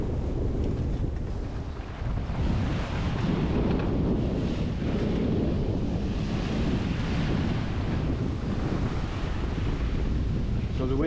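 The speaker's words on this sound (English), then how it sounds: "So the wind is back up." Strong wind roars steadily across the microphone aboard a solo sailboat at sea, mixed with rushing water and hull noise, loud and continuous throughout.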